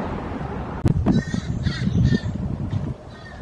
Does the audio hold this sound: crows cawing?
yes